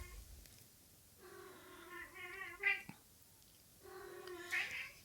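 Cats meowing indoors: two drawn-out, tonal meows a couple of seconds apart, each rising then falling, fairly close but soft, with quiet room tone between them.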